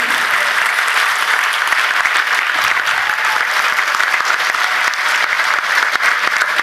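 A large audience applauds continuously, a loud, dense wash of clapping that holds steady for several seconds without a break.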